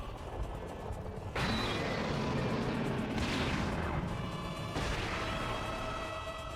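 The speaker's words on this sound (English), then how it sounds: "What is causing this tremor? The tower's starting to crack!" A rumbling tremor shakes a cracking tower in an anime, with a low, continuous grinding roar broken by sudden heavier crashing surges.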